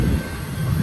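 A BNSF freight train led by an SD70ACe locomotive rumbles past up close at Cajon Pass, a steady heavy roar of wheels and cars with no pauses.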